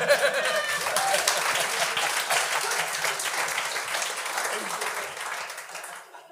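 Enthusiastic audience applause at a French-language comedy show, full clapping with some cheering and chuckles, sustained and slowly tapering over about six seconds.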